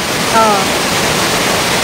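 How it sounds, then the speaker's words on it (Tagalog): Steady rushing water fills the scene with a broad, constant hiss, like a nearby waterfall or stream, with a brief voice-like tone early on. "Tingnan nyo yung tubig."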